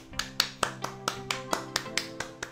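Steady hand clapping, about ten crisp claps at an even pace, fairly quiet and close, with no voices.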